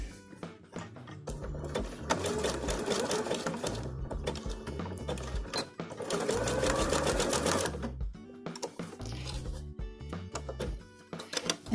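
A sewing machine stitches ribbon ties onto a fabric surgical cap in fast, rapid-fire bursts of needle clatter. It pauses briefly between runs and sits close and moderately loud.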